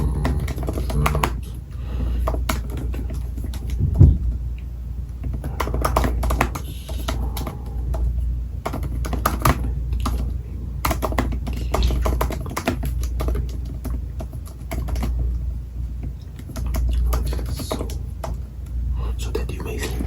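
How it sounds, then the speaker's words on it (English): Rapid computer keyboard keystrokes tapping in irregular bursts, close and fairly quiet, with a low steady background hum beneath. "a good array of sounds and loving keystroke tapping noises"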